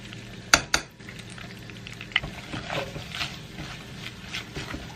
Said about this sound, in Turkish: un koyacağım ve un kokusu çıkıp birazcık da unun rengi değişene kadar kavuracağım